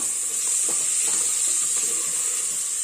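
Carrots, beans and peas sizzle steadily in hot oil as they are stir-fried for a pulao, a continuous frying hiss with faint stirring clicks and no voices.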